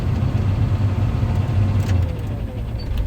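A tractor engine runs in a close, steady low rumble, heard from inside the cab with no talk over it.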